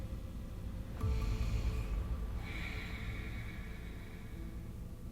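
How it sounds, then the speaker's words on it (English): A deep breath drawn in and let out during a gentle yoga flow session, a soft, close airy rush swelling for about a second and then fading into a long quiet exhale, with no talking. "And we breathe."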